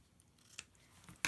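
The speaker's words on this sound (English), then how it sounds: "I've got my scissors, the ones that I only keep for cutting ribbon" Scissors snip through craft ribbon during a card-stamping project, with one soft cut near the middle and a sharper, louder snip at the very end against a quiet background.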